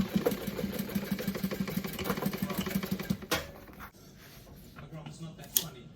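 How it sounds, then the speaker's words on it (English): A domestic sewing machine stitches bag pieces at a 3/8 inch seam, its needle running in a fast, steady mechanical buzz for about three seconds before stopping, followed by quieter handling sounds. "now that I got my pieces together, I am going to sew at 3/8 inch."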